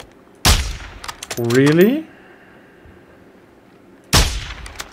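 Gunfire in Call of Duty DMZ: two loud, close single shots a few seconds apart, with a short tonal whine between them and a brief spoken word from a player.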